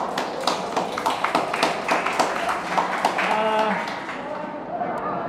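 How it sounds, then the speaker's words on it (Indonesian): Audience at a talk on journalism and graphic design applauding two speakers: a burst of scattered clapping lasting a few seconds that fades out, with a voice heard under it. "Tepuk tangan dulu untuk dua teman kita ini."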